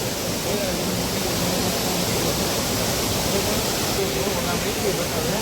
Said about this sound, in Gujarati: ધ્વજનો અવાજ એટલો આવે છે ને પાણીનો